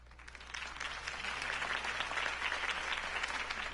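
Steady crowd applause at a Harvey Dent campaign speech in the city, a dense wash of many hands clapping at even loudness, moderately near, with no voices standing out.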